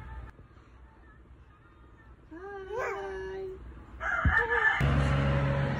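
A rooster crows once, a rising then falling call at moderate distance, followed by louder, busier background noise.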